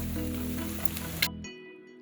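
An egg fries with crisp, lacy edges for Hong Kong-style char siu rice, giving a steady close sizzle with a faint hum beneath, which cuts off abruptly partway through and leaves near silence.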